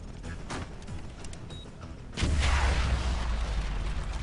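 A breach explosion in Call of Duty Modern Warfare 3 hits about halfway through as a sudden loud blast. It turns into a sustained heavy roar with rumbling gunfire, after a quieter stretch of dull background shots.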